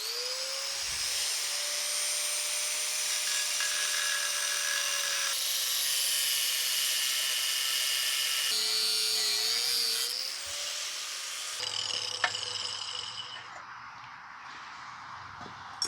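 A cut-off wheel grinds through a steel trailer winch bracket, a loud continuous high whine that shifts pitch and strain as the disc bites, with brief pauses and a clunk near the end.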